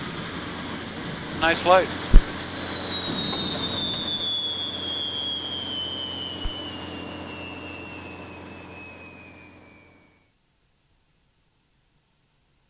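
The turboprop engines of a King Air 350 wind down after landing at Telluride Regional Airport, a whining tone steadily falling in pitch and fading to silence, with brief speech and a couple of clicks early on.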